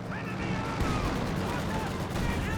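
A dense, continuous gun barrage rumbles from a Company of Heroes 2 battle, with heavy overlapping shots and booms under a commentator's voice.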